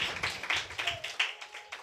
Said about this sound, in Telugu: చప్పట్లు కొట్టి ఒకసారి ప్రభును ఘనపరచండి.